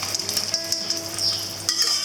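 Beaten egg in hot oil in a wok is stirred with chopsticks, giving a steady close sizzle and bright crackle with light scraping throughout, no voices present.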